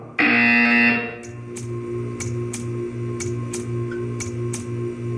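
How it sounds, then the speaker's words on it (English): A single loud, harsh electronic buzzer from the video game Portal 2 sounds for about a second, then gives way to steady, evenly spaced ticking over a low background hum. "You will hear a buzzer."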